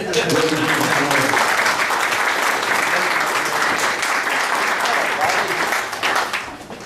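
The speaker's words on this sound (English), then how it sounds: "please give him a big round of applause" A meeting audience gives a big round of applause, loud and sustained dense clapping that holds steady before tapering off near the end.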